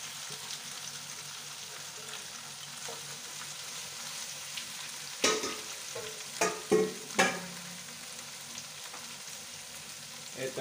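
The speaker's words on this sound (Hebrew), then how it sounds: "לאחר כדקה של טיגון של השום אני מוסיף את הפלפלים." Garlic and peppers frying in olive oil for a Moroccan fish dish: a steady close sizzle throughout, with a few louder clattering stirs in the middle and no talking.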